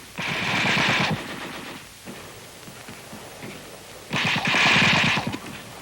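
Heavy machine guns fire in two long sustained bursts of rapid shots, loud and close, separated by a quieter gap, in a World War II US Army training film.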